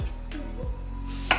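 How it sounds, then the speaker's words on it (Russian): An onion being chopped with a knife on a board: a few distinct, close thuds spaced irregularly, with a light sharp tap at the end and no voices. "а папа режет лук."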